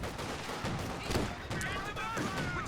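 Rifle grenade blasts and gunfire from the World War II strategy game Company of Heroes 2, with dense crackling volleys and a heavier burst near the middle, over a busy battle din and a voice.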